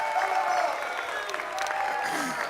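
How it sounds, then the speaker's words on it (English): A crowd at a Counter-Strike esports event cheers and claps in a short, lively burst with whoops rising above the applause, while someone talks over it. "And now the crowd getting hyped up again."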